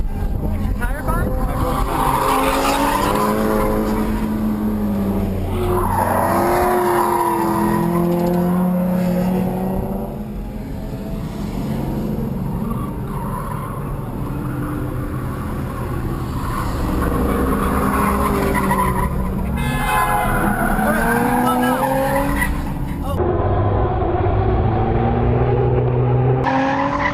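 A car drifts at The Villains, its engine roaring steadily and tires skidding and squealing in a long continuous run while people talk over the noise; the sound drops quieter near the end.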